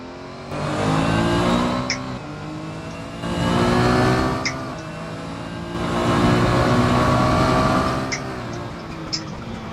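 A turbocharged car with a wastegate, driven in the Assetto Corsa racing game, revs up and eases off in three long swells with a steady engine drone. Brief sharp chirps punctuate the revs.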